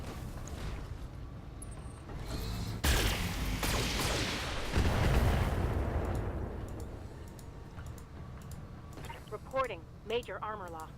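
Explosions and heavy impacts from the Battletech mech combat video game, a burst of booming blasts from an ammo explosion in the middle, followed by clicking and synthetic game voice chatter toward the end.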